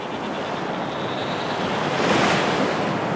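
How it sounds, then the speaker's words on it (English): Ocean surf and strong wind sweep over flat Midway Island, a steady loud roar of breaking waves and buffeting gusts that swells slightly toward the end, with no voices. "In the path of the winds and eaten away by the sea, Midway Island is disappearing below the waves."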